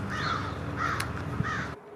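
Crows caw three times in a steady rhythm, loud and fairly close, each harsh call repeating about every half second before the sound cuts out abruptly.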